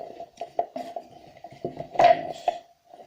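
Metal tongs from a mini kiln kit being handled, a series of light clinks and rattles as the metal knocks against itself and the packaging, close and fairly sharp.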